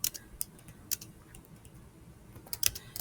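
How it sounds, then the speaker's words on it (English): Typing a prompt on a computer keyboard: a few sparse, quiet key clicks near the start, then a quicker cluster of taps at the end, close and faint with no talk. "we're going to go ahead and type create a prompt"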